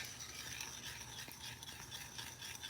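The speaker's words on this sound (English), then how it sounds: "if I do little stirs, it won't slosh out." Soft, continuous scraping and swirling of a spoon stirring sugar water for hummingbird food, with a couple of faint clinks, close and quiet with no talking.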